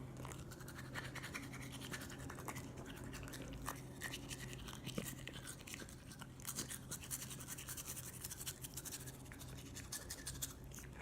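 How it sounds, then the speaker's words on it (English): A toothbrush scrubs a dog's teeth in quick, continuous scratchy strokes, front to back, close and fairly quiet, with no voices. "when I'm brushing their teeth, I do, like this, front to back"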